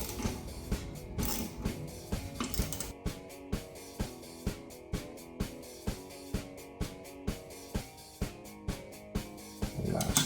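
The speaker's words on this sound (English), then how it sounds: "We'll grab the torque wrench." A torque wrench is used to tighten the bolts on a Fabtek pump seal to 77 inch-pounds, giving a steady series of sharp, regular ratcheting clicks close by after a busier stretch of metallic handling at the start.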